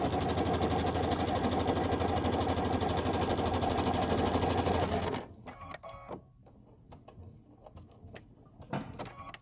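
A sewing machine backstitches fabric for a braided twist, a dense fast stitching drone for about five seconds that stops abruptly and gives way to quiet handling clicks and light rustling.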